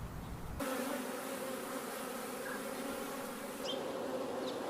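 Honeybees buzz around a mini mating nuc hive in a close, dense, continuous hum that holds steady throughout, with a few brief higher insect whines near the end.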